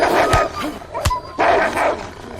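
Dog barks in the online survival game H1Z1, a few sharp close barks and yips in quick succession, loud and isolated with no talk over them.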